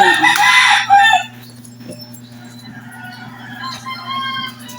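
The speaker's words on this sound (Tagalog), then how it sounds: "naririnig nyo rin yung mga tilaok ng mga manok" A rooster crows loudly and close for about a second, then faint crowing and clucking continue in the background over a low hum, before sunrise.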